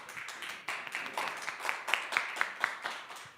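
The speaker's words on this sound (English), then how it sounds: "one more round of applause for Daniel" Sparse applause from a small group closing a free faith-themed fitness class, scattered claps fairly close and moderately quiet, with no talk.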